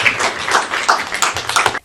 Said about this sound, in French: J'aimerais que nous puissions applaudir nos amis